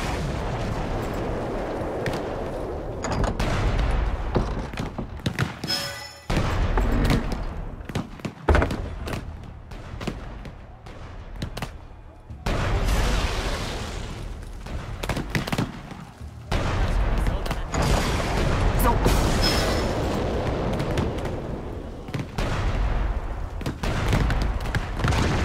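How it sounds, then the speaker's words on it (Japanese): Heavy cannon fire and booming blasts in the stealth game Shadow Tactics: Blades of the Shogun, repeated thumps and explosions layered over a dense, continuous game soundscape with no clear talk. "大砲に注意しろ。"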